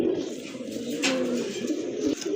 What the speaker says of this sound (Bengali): আরেক জোড়া কবুতর দেখতে পাচ্ছেন এটা হচ্ছে আপনার কালদম কবুতর অনেক বড় সাইজের কবুতর